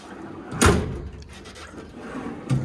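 A drawer of a US General Series 3 tool chest slides open on its rails with a short metallic clunk near the start, then a softer thud a couple of seconds later, close and fairly quiet.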